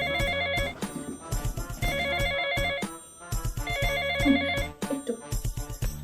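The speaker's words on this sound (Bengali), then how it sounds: "দাঁড়ান ফোন এসছে" A phone ringtone rings loudly in a tailoring boutique, a repeating electronic melody with steady tonal phrases cycling through the whole stretch, alone without talk.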